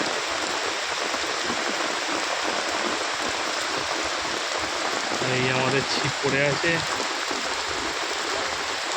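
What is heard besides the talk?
heavy rain at a lake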